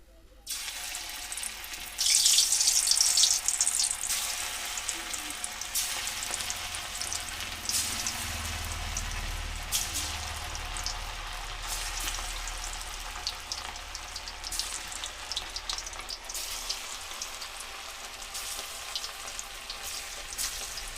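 Chicken pakora fries in hot oil with a continuous close hiss and crackle, a louder burst early on as pieces drop in, then an even bubbling sizzle with faint clinks throughout.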